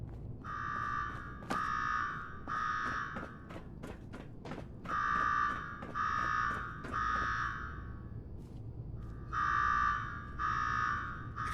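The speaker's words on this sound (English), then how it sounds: "Now go shut off that damn alarm." Repeated electronic alarm ringing in the Fallout 4 video game, sounding in several loud pulsing bursts with brief gaps between them, over a low rumbling background with occasional thuds.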